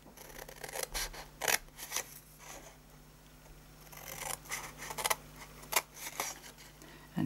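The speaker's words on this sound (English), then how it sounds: "we're going to just snip up" Scissors snip through card while an Easter bunny box is being made, a series of short, crisp cuts in uneven bursts, close and fairly quiet, with no talking.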